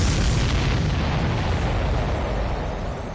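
Explosions from the video game Ace Combat 7 fill the scene with a loud, continuous rumbling blast that stays dense and heavy before slowly easing toward the end.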